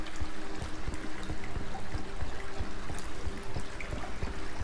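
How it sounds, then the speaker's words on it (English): Constant water trickles and drips echo through an underground sewer in the game Twelve Floors, forming a dense, steady wash with no voices. "water dripping sound."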